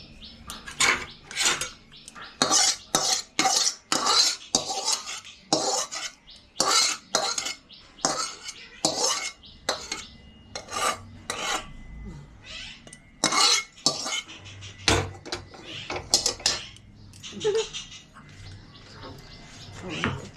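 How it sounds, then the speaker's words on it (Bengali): Ghugni being served into a dish, with repeated close clinks and scrapes of metal utensils against pots and plates, and voices talking intermittently. "এবার আমরা ঢেলে দিচ্ছি ঘুগনিটা"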